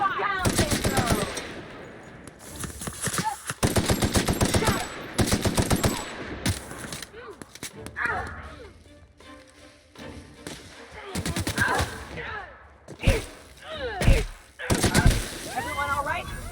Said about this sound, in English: Opening fire! Down they go!